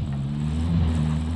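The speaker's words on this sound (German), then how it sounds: "Feindliche Drohne über uns." An enemy drone in the Call of Duty: Warzone video game drones overhead as a steady low engine hum, fairly loud and unbroken, with no speech.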